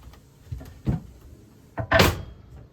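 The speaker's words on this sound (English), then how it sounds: "Nice little pull-out drawer on the side." Pull-out drawer in a 1951 ACC caravan, a few short wooden knocks and scrapes followed by a louder sliding rattle near the end, close by.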